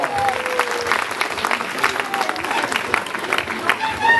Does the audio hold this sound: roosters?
no